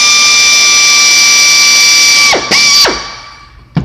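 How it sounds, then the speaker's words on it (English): A small-bit power drill pre-drills holes into a used vehicle headlight housing, whining loud and steady at close range, then the pitch drops in several quick dips as it winds down and stops, ending with a brief click. "we've got a very small bit we're going to pre-drill these holes with."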